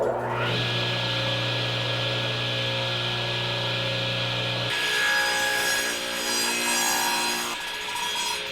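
A Craftsman radial arm saw makes a 45-degree miter cut through wood, with a steady motor whine that shifts into a rough, buzzing bite as the blade meets the board, loud and close without talking.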